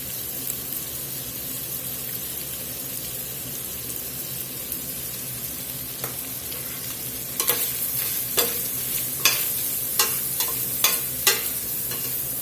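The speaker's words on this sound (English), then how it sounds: "Alright, that's starting to sizzle up there pretty good." Steady sizzling of turkey sausage frying in a hot pan over medium-high to high heat, joined later by a series of sharp clanks and scrapes as it is stirred.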